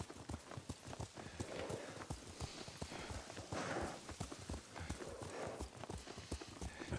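Steady clip-clop of horse hooves at a walking or trotting pace while riding in the samurai game Ghost of Tsushima, continuous and fairly soft, with faint background sounds underneath.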